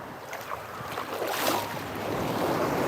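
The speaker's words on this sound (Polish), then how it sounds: "Łódka przejechała, dlatego jest fala." Wash from a passing boat laps and surges along a clear-water beach, a soft rolling swash that rises toward the middle and then holds, with light wind and no talking.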